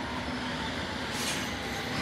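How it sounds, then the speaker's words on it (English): A London Underground train on the Metropolitan line roars past with a dense, steady rush of wheel and rail noise and a brief hiss of higher sound, close and loud with no talking. "This is underground train."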